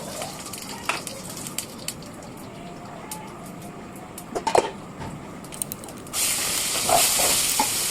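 Potato and pointed gourd fry in oil tempered with cumin and bay leaf after fish, a soft hissing sizzle with scattered clicks and clatters, swelling louder near the end.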